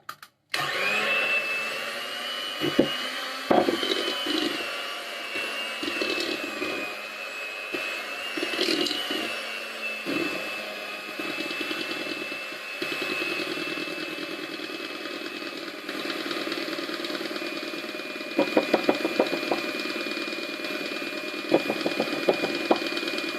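An electric hand mixer beats eggless vanilla sponge batter made from premix at low speed, giving a steady, close motor whir with a few brief clattering knocks from the beaters. The whir runs on for over twenty seconds with no speech.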